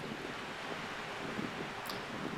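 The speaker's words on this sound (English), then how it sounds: "the river is flowing from right to left, and the wind is causing the water to appear as though" Steady broadband rush of a river flowing past during a crossing, with wind blowing across the microphone; continuous and even throughout, no voices.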